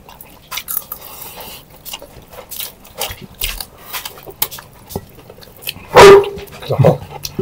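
Scattered clicks and taps, then a very large dog lets out a loud, close bark followed by a shorter, softer one.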